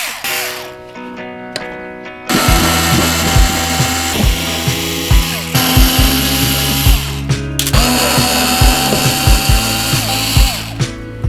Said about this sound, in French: on a commencé par dévisser l'ancien plan de travail